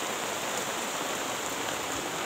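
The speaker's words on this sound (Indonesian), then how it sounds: "Nah, hujan teman-teman." Rain falling over a cemetery during grave digging in the rainy season, a steady, even hiss of drops on surfaces, moderately quiet and unbroken, with no voices.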